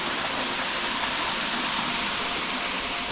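A Bali waterfall gives a loud, steady, broadband rush of falling water, constant and unbroken throughout with no voices.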